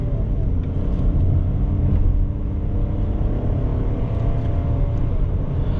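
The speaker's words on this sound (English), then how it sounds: "let's check out the power of this little boost engine." A 2021 Ford Bronco Sport Big Bend's 1.5L turbocharged engine pulls hard under acceleration, giving a loud, steady, dense low rumble with a droning engine tone that holds throughout and no voices.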